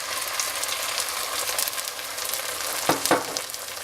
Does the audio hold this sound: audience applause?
no